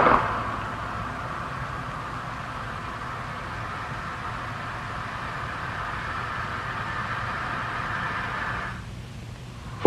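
Steady broadband hiss of air rushing through a compressible flow channel with its valve and piping, picked up at the channel entrance; continuous and even, cutting off near the end.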